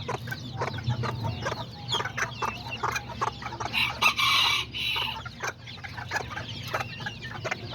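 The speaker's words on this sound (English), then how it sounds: "And she has like 6 little chicks." A hen with about six small chicks clucks repeatedly among the flock, close by, with short rhythmic clucks and a rooster crowing in the yard.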